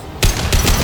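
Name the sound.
battle rifle gunfire in the video game Mass Effect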